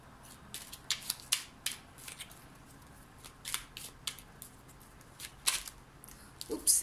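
Oracle cards shuffled by hand at close range, with scattered papery riffles and soft slides coming in short uneven bursts, a few sharper than the rest, over a quiet background with no talking.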